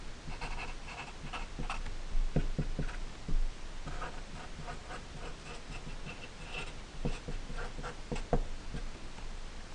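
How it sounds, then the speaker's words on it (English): Marker or chalk writing on a board during a physics lesson, heard as a run of scratchy strokes and taps of moderate loudness, with no speech over it. "I'll write that down."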